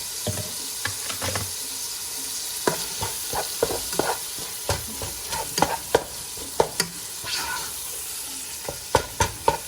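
Fideo noodles and meat frying in a pan, with a steady close sizzle broken by repeated sharp spatula scrapes and taps as the mixture is stirred.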